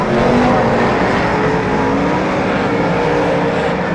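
Superstock race cars scream past at high revs at a night race in Wanganui, a loud continuous engine roar with pitch shifts as the pack races by.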